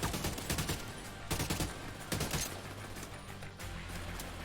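Short, repeated bursts of automatic gunfire from The Division 2 video game crackle in quick clusters, loud and close, separated by brief pauses, with no talk.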